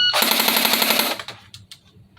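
A Cybergun FN P90 airsoft replica fires a single fast full-auto burst, a loud, close, rapid rattle lasting about a second, followed by faint clicks.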